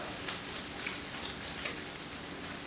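Crab cakes fry in a hot pan with a steady, dense sizzle and a few brief crackling pops. The sound is fairly close and continuous, with no talking.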